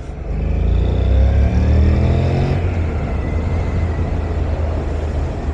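A KTM 125 Duke 125cc motorcycle engine revs hard and close as the rider accelerates, a loud steady drone with rising harmonics that eases after a few seconds, with no talking.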